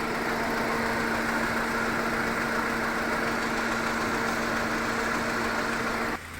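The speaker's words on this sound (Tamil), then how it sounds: "என்ஜின் நல்லாவே வைப்ரேட் ஆகுது," A car engine idles with a heavy vibration fault, a strong, constant hum and a rough vibrating drone, running alone until it drops off at the very end.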